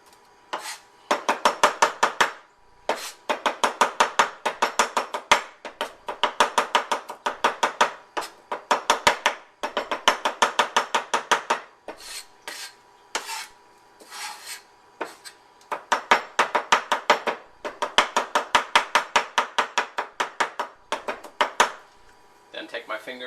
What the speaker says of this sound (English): You can put them on top of each other and just run your knife through it.